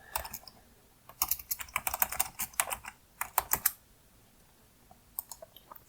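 Fast bursts of computer keyboard typing while notes are entered for a bookmark, crisp close key clicks coming in quick runs with short pauses, then a few scattered taps near the end.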